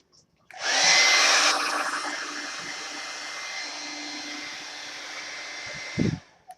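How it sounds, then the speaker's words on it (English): A hair dryer switches on and blows with a steady, loud whooshing roar for several seconds while drying a decorated craft bottle, then cuts off with a brief thump. "hit it with this hair dryer so I can get it to dry"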